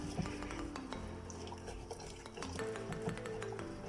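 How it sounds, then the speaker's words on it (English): Banana and sugar being whisked together in a bowl for banana bread, with steady close stirring and scraping, with light clinks of the whisk against the bowl throughout. "So I'm gonna start off by whisking the bananas and the sugar together."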